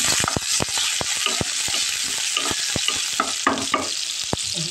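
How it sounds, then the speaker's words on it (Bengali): Onion paste frying in hot oil with prawns and leafy greens, a loud steady sizzle broken by frequent sharp scraping stir strokes close by, no voices. "দেখেন তেলটা গরম হয়ে গেছে, পেস্ট কুচিটা দিয়ে দিলাম আমি"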